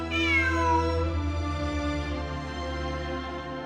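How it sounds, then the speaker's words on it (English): Cat in the Genshin Impact video game giving a single drawn-out meow, clear and close, with a falling pitch that settles into a steady hum. "Look! A cat!"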